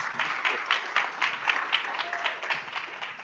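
An audience at a startup cohort demo day applauds, dense clapping swelling and holding steady for a few seconds, moderately loud with a faint voice underneath.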